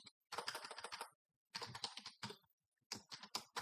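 Computer keyboard typing of code comes in three quick bursts of crisp, close key clicks separated by short silences, with no voices.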